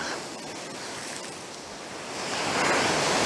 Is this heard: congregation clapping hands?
no